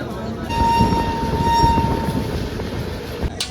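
Indian Railways express train BDTS HW EXP 19019 from Surat to Haridwar running with a loud, close, steady rumble of wheels and carriages, with a sustained horn tone over it for a couple of seconds.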